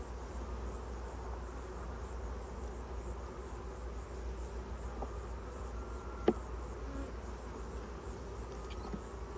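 Honey bees hum in a continuous, even drone around an open hive in a cow pasture apiary, with faint clicks of hive work and no voices.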